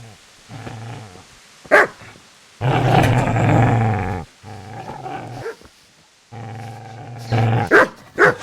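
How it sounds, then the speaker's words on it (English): A dog barks and growls aggressively in the medieval game Kingdom Come: Deliverance. Loud, close barks come in bursts, mixed with a long rough snarl in the middle and short sharp yelps toward the end. "Get away, you mutt!"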